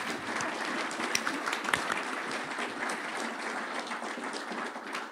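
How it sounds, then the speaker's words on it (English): An audience at a Toyota leadership summit applauds its executive panelists, a dense, steady wash of clapping that holds for several seconds with no talk over it. "So we'll clap for them too."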